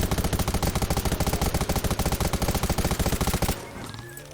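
Rapid automatic gunfire in the survival shooter Undawn, a loud, close, evenly spaced stream of shots lasting about three and a half seconds before cutting off into quieter background sound.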